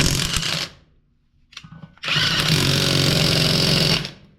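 A SeeSii 1/2-inch cordless impact wrench runs loud and close: a short burst, a pause with a brief rattle, then a sustained two-second whine-and-hammer run that stops abruptly.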